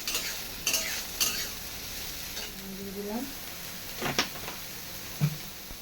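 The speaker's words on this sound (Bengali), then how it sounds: "সোয়াবিনটা ভাজার জন্য দিয়ে দিলাম" Soybean chunks fry in mustard oil in a wok, giving a steady hiss of sizzling broken by a few scraping stirs and a short squeaky scrape midway; no talking.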